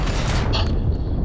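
An explosion goes off in the World War II shooter Enlisted, a loud dense blast with crackling debris and gunfire-like bursts filling the short moment at close range.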